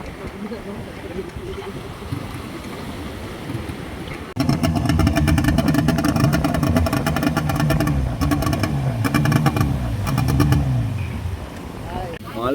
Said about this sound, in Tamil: போட் ஒன்று கடலில் போகுது பாருங்க.